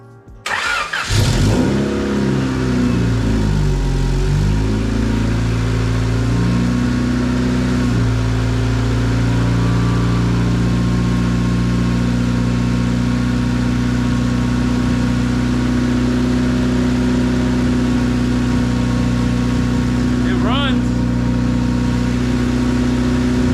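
A 1990s Honda Accord, mid-swap to a manual transmission, cranks and fires up, then settles into a steady, loud idle that runs on continuously, with a brief higher whine near the end.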